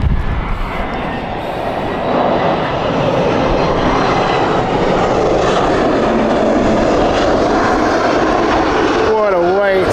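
A Finnair Airbus A319 airliner passes at Heathrow with a loud, sustained engine roar that holds steady for the whole stretch, and a person talks over it.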